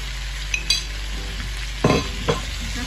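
Meat, onion and potato with tomato paste frying in a pan: a steady sizzle runs throughout, broken by a few scraping, clinking stirs of a utensil against the pan, close by with no talk.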